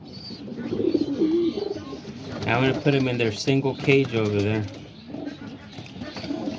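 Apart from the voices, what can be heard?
pigeons cooing in a pigeon loft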